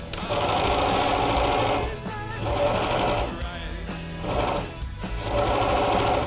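A sewing machine runs in close, loud bursts while stitching fabric for costume making, with a steady whirring hum that pauses briefly between runs.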